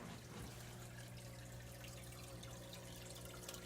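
Water is poured into a cup for a fish fry setup, a soft, steady trickle that runs continuously and faintly at close range with no talking.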